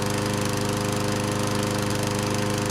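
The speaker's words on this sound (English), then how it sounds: "And that's the lawnmower engine." A lawnmower engine sample, played as a sound effect alongside a chainsaw for building guitar tones, chugs in a loud, steady, rapid pulsing rhythm for nearly three seconds before stopping abruptly.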